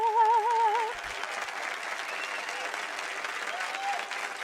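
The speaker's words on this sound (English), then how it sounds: "So give yourself a motherfucking hand clap." Crowd applause with scattered cheering at a podcast-style self-care episode, steady and moderately loud after a brief tonal flourish at the start, continuing evenly to the end.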